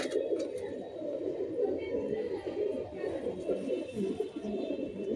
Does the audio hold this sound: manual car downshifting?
no